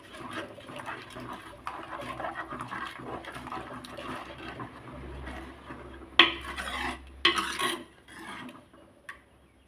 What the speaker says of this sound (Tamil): கல் உப்பு போட்டுக்கலாம் கலக்கி விட்டுக்கலாம்